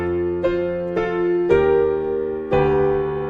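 Solo piano plays the intro of a song: four struck chords at roughly half-second to one-second spacing, each ringing out with sustained harmonics, close and clear with no voices.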